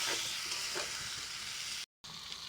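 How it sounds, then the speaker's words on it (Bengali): Elephant foot yam and potato curry sautéing in a pan with a little water, a soft steady sizzle with faint stirring scrapes, close but quiet, broken by a brief silence near the end. "আমি এটাকে আবারও ভালো করে কষে দিই"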